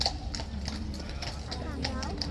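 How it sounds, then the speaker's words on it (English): Horse hooves clip-clopping on hard ground at Horse Guards in London, a steady series of sharp knocks at moderate distance, with people talking over them throughout. "This horse coming back on."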